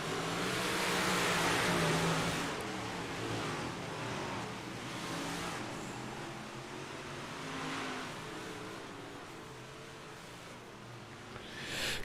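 Big block modified race cars in a sim racing game at Cedar Lake roar and rev as they circle the track. The engines swell loud early, then settle into a continuous drone with passing surges, and no one speaks.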